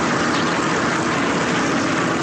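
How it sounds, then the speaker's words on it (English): Aircraft at a NASCAR track, airplanes and helicopters flying overhead, give a steady loud engine drone with a broad roaring wash that continues without a break and no clear talk. "The airplanes flying and helicopters flying overhead."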